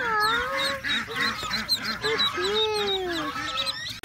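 Toy duckling and goose sounds play in a rapid run of honking, quacking calls, loud and close, with gliding electronic-sounding tones mixed in.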